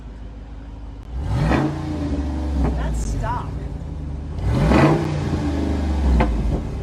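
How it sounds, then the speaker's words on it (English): A Jeep 392 V8 with active exhaust revs in two strong surges that rise and fall, roaring close by, while people talk over and between the revs. "That's that active exhaust on the 392."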